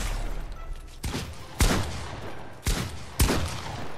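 Gunfire in the Fortnite video game, several loud, close shots in an uneven sequence over continuous game noise.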